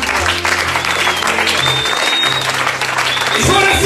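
A church congregation claps and cheers in praise during a French-language service, the steady applause filling the room over a low, sustained musical hum and some crowd voices throughout.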